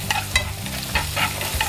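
Onions frying in a pan, a steady close sizzle broken by a few sharp scraping stirs, with no talking over it.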